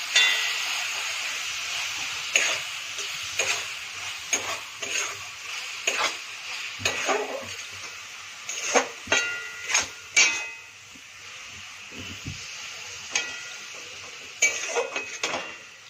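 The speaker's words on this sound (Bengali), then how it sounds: "ফ্লেমে রেখে অনবরত নেড়ে যাব।" A spoon works coconut laddu (narkel naru) mixture around a pan over a medium flame, giving repeated scraping, pressing strokes at an irregular pace with faint sizzling between them, close and fairly loud.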